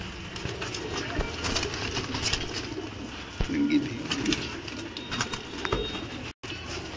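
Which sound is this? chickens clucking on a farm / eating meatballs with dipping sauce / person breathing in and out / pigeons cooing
pigeons cooing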